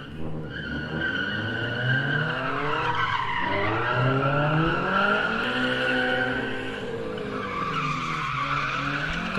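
A car drifting through a gymkhana course, tires squealing continuously in wavering, sliding tones over a revving engine, loud and sustained throughout.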